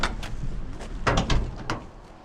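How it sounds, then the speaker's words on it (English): The door of a 1971 Plymouth Cuda 440 swings and shuts, a series of close, soft mechanical clicks and latch thuds with a solid closing clunk in the middle, fairly quiet overall. "Wow, really smooth action on these doors."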